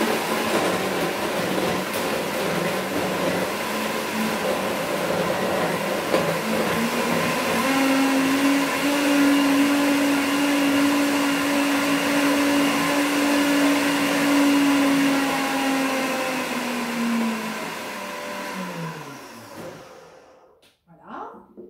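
Countertop blender whirring as it mixes a healthy summer dessert, a loud steady grinding roar whose pitch rises and settles midway before it spins down and stops near the end.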